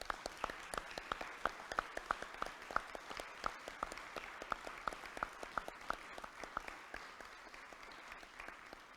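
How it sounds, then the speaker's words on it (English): Applause for students at a Rotary club meeting, fairly faint and sparse with individual hand claps clearly separated in an uneven rhythm, like a small group clapping in a room. "Let's give them a round of applause."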